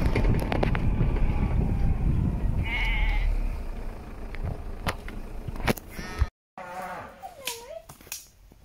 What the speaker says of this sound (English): A group of sheep, even.